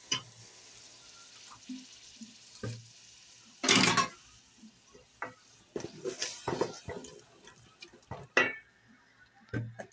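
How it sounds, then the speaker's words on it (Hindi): Ginger, garlic and a ground green masala fry in oil in a pan for chicken liver: a soft steady sizzle with a few louder scraping and clinking stirs, close by, with no voices. "अब हमने जो ग्रीन मसाला पीस लिया था वो भून लेंगे।"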